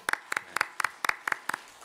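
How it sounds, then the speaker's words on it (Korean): Congregation members at a Sunday afternoon church service clap together in a steady rhythm, seven evenly spaced double claps, fairly close and clear with no talking over them. "박수 한번 쳐드릴까요?"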